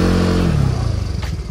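A big bike motorcycle idles loud and close, its rumbling engine note dipping in pitch as the throttle eases, a rough pulsing growl filling the short moment with no talking.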